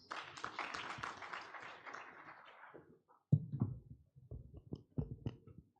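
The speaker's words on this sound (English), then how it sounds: "A round of applause for the President." A law conference audience applauds the president with a burst of clapping that fades within a few seconds, followed by scattered knocks and faint voices.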